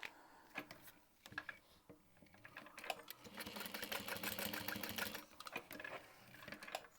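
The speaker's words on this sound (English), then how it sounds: "And then we're going to top stitch this on right above the trapezoid cutout, but not through it, just right above it." A sewing machine top stitches a handbag in short starts, then settles into a longer steady run of rapid mechanical clatter, close up, with a few stops and restarts.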